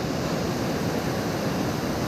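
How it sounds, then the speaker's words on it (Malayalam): Rough sea during the monsoon month of Karkidakam, heard as a dense, continuous roar of surf and churning water, loud and close with a constant wash and no voices. "അത്രയ്ക്കും ശക്തമായിട്ടുള്ളൊരവസ്ഥയിലാണ് ഇപ്പോൾ കടൽ"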